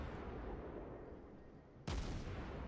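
Naval gunfire in the World of Warships video game, with a sudden loud boom near the end that breaks through a steady low rumble of background noise.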